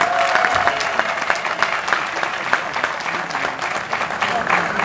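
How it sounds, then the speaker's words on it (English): Big round of applause from a crowd at a Jeunesse India company event in Delhi, dense steady clapping with scattered sharp claps and a few voices mixed in throughout. "please one big round of applause from all of you"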